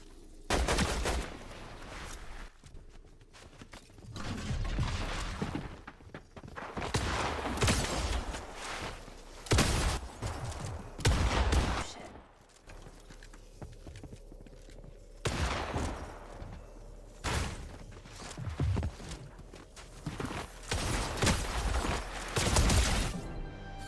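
Bursts of gunfire from an online shooter video game, sounding as repeated loud volleys spread across the whole stretch, with short gaps between them.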